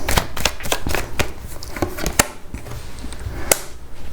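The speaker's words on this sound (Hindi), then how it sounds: "ये गाइडेंस के लिए 2 कार्ड ले लूँगी मैं यहाँ से" Tarot cards are shuffled and drawn by hand, giving a rapid series of crisp riffling snaps followed by sparser single card flicks, close and loud.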